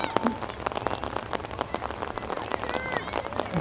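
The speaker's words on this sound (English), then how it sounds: "I'm sure you can hear the rain on the umbrella." Steady rain patters on an umbrella at a rainy women's college soccer match, a dense, continuous drumming of drops close by with a faint crowd murmur underneath.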